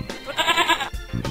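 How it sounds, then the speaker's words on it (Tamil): A goat bleats loudly and close by: one wavering, nasal cry, followed by the start of a second short bleat, with no voices. "ஆடு,"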